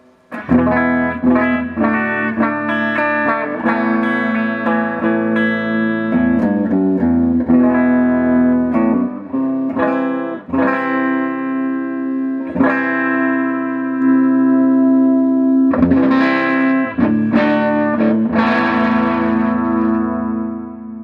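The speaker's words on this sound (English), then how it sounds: "Reverb on." Loud, close Les Paul electric guitar through an Ampeg GT-10 amplifier with reverb switched on, sustained chords and picked notes blooming and ringing into each other for about twenty seconds.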